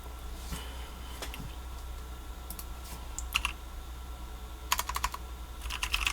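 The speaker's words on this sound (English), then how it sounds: "maybe it's a good typing demonstration to just answer some people in the chat" Fast typing on a TX75 mechanical keyboard fitted with Ergo Clear Cherry switches, with clusters of crisp keystroke clicks in bursts against a steady low hum, no talking.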